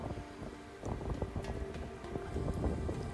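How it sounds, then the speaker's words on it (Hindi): Strong wind blowing outdoors in Canada rushes steadily across the microphone as a continuous broadband roar with scattered gusts and buffeting thumps, no talking. "हवा की आवाज़ भी आपको आ रही होगी।"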